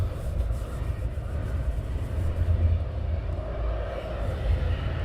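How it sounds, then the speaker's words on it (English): A military aircraft engine starts up at RAF Coningsby during a NATO exercise, a steady low rumbling roar with a broad whine on top, heard at some distance and continuing throughout. "So we have engine start."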